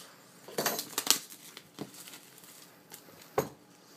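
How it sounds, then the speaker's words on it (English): Plastic shrink wrap crinkles and tears as it comes off an Apple Bluetooth keyboard box, several close, sharp crackling rips separated by short pauses in a quiet room. "And get all the shrink wrap off."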